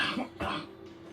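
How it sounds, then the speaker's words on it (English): A single close cough with a short throat-clearing rasp, from a person in a radio studio during an interview, followed by a quiet low hum. "He's coughing."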